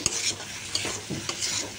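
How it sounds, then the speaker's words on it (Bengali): A spoon stirs soybean curry masala frying in a pan, scraping strokes repeating every half second or so over a soft steady sizzle, close and moderately loud. "এখন একটু নাড়াচাড়া করতে হবে।"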